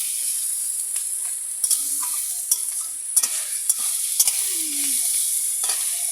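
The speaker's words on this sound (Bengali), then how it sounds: "এটা ভালো করে ভাজা হবে" Food frying in a pan, a steady loud sizzle with intermittent stirring scrapes and clicks, close up and continuous, no talking.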